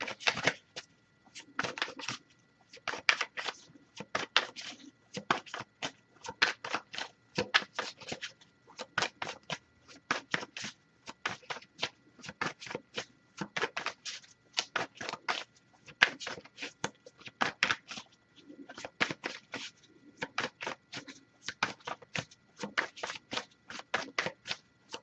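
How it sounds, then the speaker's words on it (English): Tarot cards shuffled by hand, quick papery riffles and flutters in repeated bursts with short pauses between, close and crisp throughout. "I'll give it a few more shuffles."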